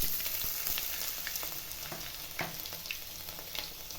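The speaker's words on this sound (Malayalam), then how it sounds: "ഇഞ്ചി ഇട്ട് കൊടുക്കാം." Chopped ginger frying in oil with curry leaves, a continuous crackling sizzle broken by light scraping and tapping of a spoon in the pan, moderately quiet and steady, with no voices.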